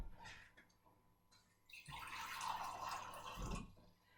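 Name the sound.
pouring maple syrup and water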